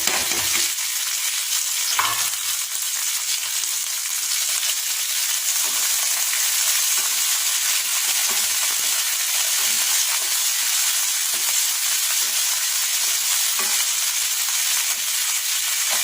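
Oil sizzles and crackles loudly and continuously as leaves and chillies fry, a bright steady hiss close by with no talking.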